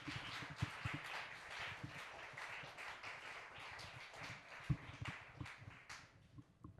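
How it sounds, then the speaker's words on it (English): A live audience at a college poetry slam claps steadily as a poet makes a long walk to the stage, giving a dense, continuous patter of hands that sounds somewhat distant in the room. "we'll keep him clapping all the way to the stage"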